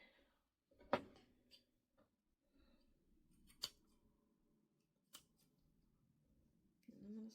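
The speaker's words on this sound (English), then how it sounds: "I'm gonna snip that end." Scissors snipping the fabric end of a sewn sunglasses case, a few sharp close cuts spaced apart amid quiet handling rustles.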